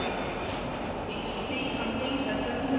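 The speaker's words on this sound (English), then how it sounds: "this is the Docklands Light Railway, which is right here." A Docklands Light Railway train at Canary Wharf in London, a steady broadband rumble of rolling carriages and station ambience filling the short stretch, moderately loud throughout.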